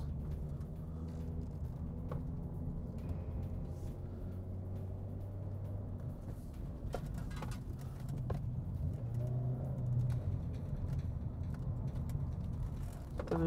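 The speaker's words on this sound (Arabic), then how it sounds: "انا هحاول اخد بقى الملفات بتاعت التراك على سرعة عالية شوية" A 2017 Mazda 3 is driven at high speed through the corners of a race track, its engine droning steadily with tyre and road rumble and a slight rise toward the end, heard from inside at moderate volume.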